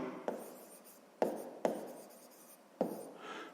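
Chalk or pen writing out a sixth-grade math exercise, with four sharp taps or strokes spaced across a few seconds over a faint scratchy rustle, close and quiet with no talking.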